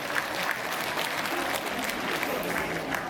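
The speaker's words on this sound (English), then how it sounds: "Give yourselves a round of applause because you've been the stars of this show." A convention crowd at Liverpool Comic Con 2023 breaks into dense, sustained applause, steady and loud throughout, with a faint murmur of crowd voices beneath the clapping.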